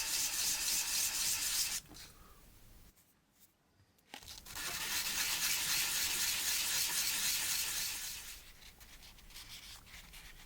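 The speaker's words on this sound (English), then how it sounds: "Keep dipping the abrasive paper in water to stop it from getting clogged up." Abrasive paper, dipped in water, rubs back and forth over 10mm laser-cut parts in long, loud sanding strokes, with a brief pause partway before the scraping resumes and then eases off.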